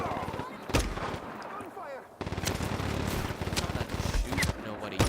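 Gunfire in the video game Just Cause 3, with loud sharp bursts of shots and explosive blasts over constant game noise, and a person talking throughout.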